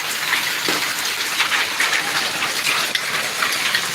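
Hail and heavy rain fall hard on a village in February, a close, steady roar of pattering with scattered crisp impacts and no talking.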